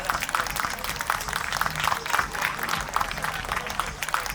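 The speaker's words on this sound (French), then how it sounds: "Est-ce qu'on peut applaudir pour l'arrondissement La Salle" An audience applauds for the La Salle borough at a morning school-kit distribution in Montréal. The clapping is continuous and dense, and it holds at an even level throughout.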